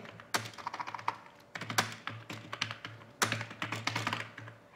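Close, crisp typing on a computer keyboard comes in several quick runs of key taps separated by short pauses, with a few heavier thunks from the space bar. No speech.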